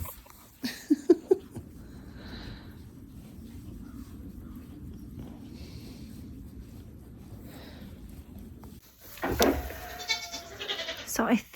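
A goat named Star, awaiting her kids, gives a few short close bleats before a stretch of quiet room tone, followed by a louder burst of handling noise and movement near the end.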